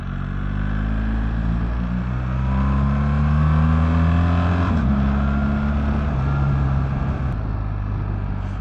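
A motorcycle engine drones steadily and loudly while riding a coastal mountain road in Catalonia, its pitch rising and falling with throttle changes and a brief shift near the middle.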